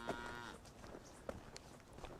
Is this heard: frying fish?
no